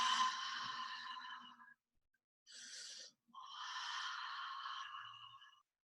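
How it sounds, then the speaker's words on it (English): A long, breathy exhale is pushed out audibly during qigong practice, followed by a short puff and then another extended, airy outbreath, close and fairly soft. "Use that hot, audible cleansing breath while you're feeling the pain"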